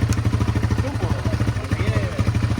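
A motorcycle idles nearby at a biker rally in Częstochowa with a steady, rhythmic thumping pulse, while people talk over the engine.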